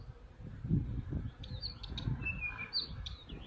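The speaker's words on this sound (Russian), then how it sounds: "какие птички у нас поют" Songbirds chirp and tweet in a vegetable garden, with bright short calls and a few whistled phrases scattered over soft low rustling and handling noise.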